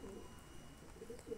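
Pigeons coo softly and repeatedly while feeding on scattered corn, the low murmuring calls steady and close over faint background noise.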